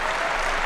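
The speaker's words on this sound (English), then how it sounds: "warm round of applause from an appreciative French crowd" Warm applause from a French badminton crowd at the 2014 French International, a dense, steady wash of clapping throughout.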